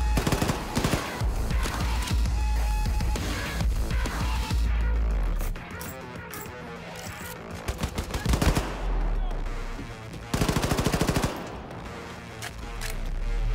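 Rapid SMG and machine-gun fire in Wolfenstein 2's Freedom Chronicles Gunslinger Joe DLC, dense loud bursts nearly throughout with brief pauses, with a little talk between volleys.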